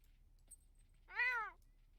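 A single cat meows once in The Sims 2, a clear mid-length call rising then falling, standing alone over a faint low background hum.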